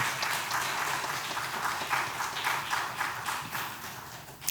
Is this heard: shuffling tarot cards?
no